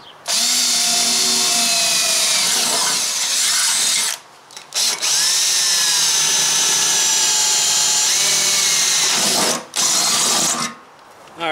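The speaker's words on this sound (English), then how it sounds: "Now I like to pre-drill it so I'm not sitting there for 10 minutes doling out a screw." Power drill boring pilot holes through a 3/16-inch-thick steel trailer frame for a teardrop camper fender, a loud sustained whine in three long bursts with brief pauses between them.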